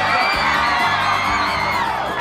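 Crowd at the Ciranda Flor Matizada 2015 score announcement shouting, whooping and cheering loudly and continuously, a dense sustained roar of many voices.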